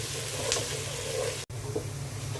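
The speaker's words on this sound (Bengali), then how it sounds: "তেলটা গরম হয়ে গেছে, এখন আমি পেঁয়াজ দিয়ে দিচ্ছি।" Chopped onions sizzle steadily in hot oil in a pan, being fried into crisp birista for biryani, a continuous loud frying hiss with a brief stir or clatter partway through.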